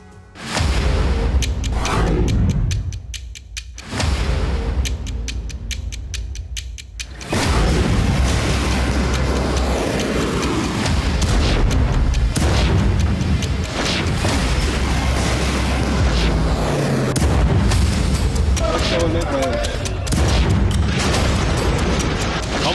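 Heavy explosions and bombardment in war footage, with loud deep booms and rumbling blasts, some in quick succession, others rolling on under continuous low roaring noise.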